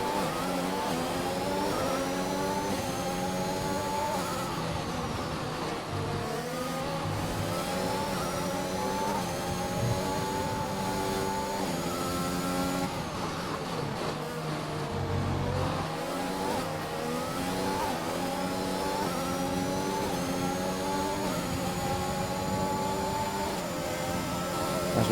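An F1 car engine in F1 2021, heard on board during a replay of an overtake, screams steadily and loudly, its pitch climbing through repeated upshifts and dipping under braking over a long continuous run.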